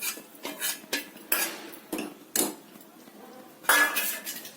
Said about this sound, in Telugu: తాలింపు వేగిపోయింది. ఇది పప్పులోకి యాడ్ చేసుకుందాం.